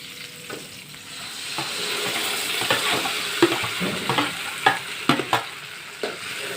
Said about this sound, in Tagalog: ilalagay ko na ang bawang at sibuyas. Ayan o. At ayan, ilalagay ko na rin po itong munggo